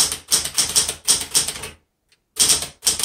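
A 1970s Smith Corona Galaxie Twelve typewriter typing in quick bursts of sharp, loud keystrokes, then a brief pause before the clatter resumes.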